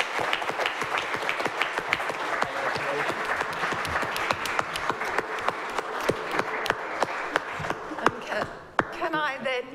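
Audience applause closing a public debate on a world court for human rights, dense steady clapping from a crowd throughout, with a brief spoken word near the end.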